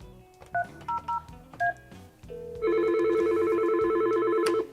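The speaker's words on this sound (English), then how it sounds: "I'm going to place a phone call right now." Telephone dialing tones from placing a call on a 3CX phone system: several short touch-tone beeps in quick succession, then a long steady ringback tone, fairly quiet and with no talking.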